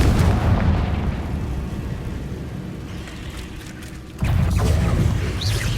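The Confringo spell from the video game Hogwarts Legacy bursts as a loud, booming fiery explosion with a long rumbling decay, followed by a second heavy blast near the end.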